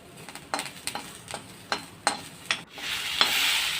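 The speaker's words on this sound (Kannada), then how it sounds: "ಕರಿಬೇವು ಹಾಕ್ಕೊಳ್ತೇನೆ ಮತ್ತು ಹಸಿಮೆಣಸು ಹಾಕ್ಕೊಂಡಿದ್ದೇನೆ." Curry leaves and large green chillies hit hot oil in a pan, giving a series of sharp crackling pops and spatters that build into a steady bright sizzle, close and with no talking.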